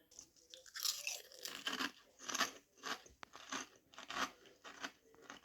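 Close, crisp crunching and chewing of sour cream and onion flavoured snack crisps, repeated bites in a steady rhythm, quiet and alone.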